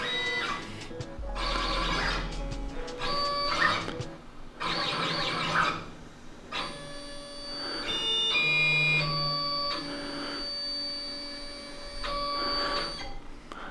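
CNC plasma table running a dry pass with the torch raised over steel: motor whines and stepping tones rise and fall in bursts of a second or two with pauses between, close and moderately loud, no talk.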